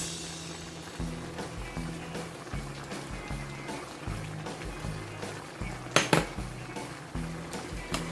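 Ginataang kalabasa and sitaw with shrimp, pork and green onions being stirred in a pot, a utensil scraping and clinking against the metal in steady repeated strokes, with one louder clank near the end.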